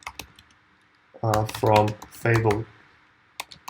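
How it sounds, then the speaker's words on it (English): A few quick keyboard taps for a short typed phrase in a notepad during a remote-control demo, light clicks before and after a man's speech. "I can go from here and open up a notepad where I'll type in hello world"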